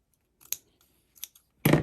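Scissors snip through a small piece of lace in a quiet room. A few light clicks come first, then one louder, close cut ends the sequence.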